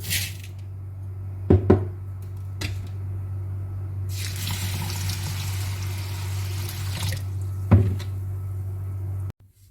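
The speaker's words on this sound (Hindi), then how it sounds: "खुला पानी डालेंगे और ओवरनाइट भिगो देंगे।" Water pours into a container over wheat and barley grains set to soak for haleem. A few sharp knocks come first, then a steady splashing pour lasting several seconds over a low hum, followed by another knock.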